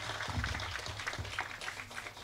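An audience at a film trailer launch event claps and applauds in a quiet, distant patter that carries on steadily throughout.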